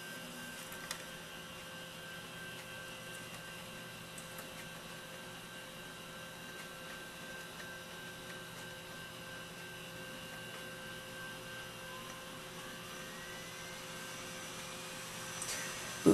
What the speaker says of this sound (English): We'll reboot the machine.